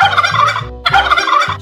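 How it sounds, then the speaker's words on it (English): A turkey gobbles in two loud, rapid bursts of rattling calls, separated by a short pause, close and clear with no talk over it. "Turkey."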